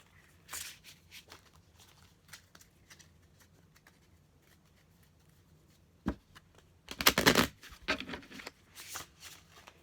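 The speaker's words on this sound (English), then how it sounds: "I'm going to pull some of these sacred soulmate cards." Tarot cards from a sacred soulmate deck shuffled by hand in a quiet room, with short riffling bursts separated by pauses and one louder flurry near the end.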